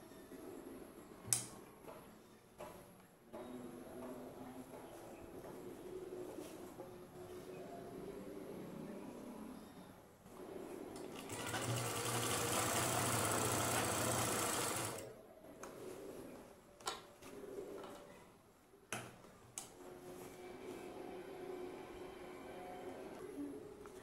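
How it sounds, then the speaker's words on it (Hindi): Sewing machine stitching a 1-inch elastic casing on a dhoti salwar: a single steady whirring run of a few seconds mid-clip, close and fairly loud, between quiet handling clicks and rustles of fabric. "तो हम 1 इंच पे सिलाई लगाएंगे"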